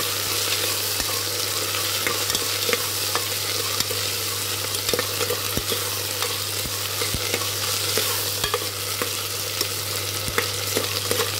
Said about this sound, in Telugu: బంగాళదుంప ముక్కలు చిన్నగా కోసి పెట్టుకున్నాం కదా, వాటిని కూడా వేసేసి 2 నిమిషాలు వేగనిస్తున్నాము